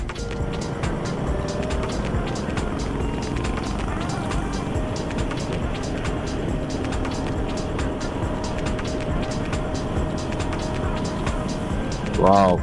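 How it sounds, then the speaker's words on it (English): A Royal Enfield Guerrilla 450 motorcycle accelerating along a road, its engine droning steadily close by under rushing wind noise throughout. "These are the roads where you can just turn, twist,"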